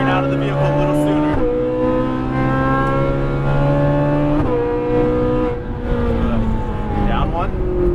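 A Ferrari 458 Italia V8 screaming at full throttle on a track, loud high revs climbing through gear shifts with sharp breaks between, while a person talks over the engine.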